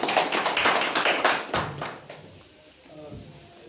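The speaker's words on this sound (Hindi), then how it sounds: "जोरदार तालियां आपके।" An audience at a company event bursts into applause, a dense burst of clapping that fades out after about two seconds, followed by quieter sounds.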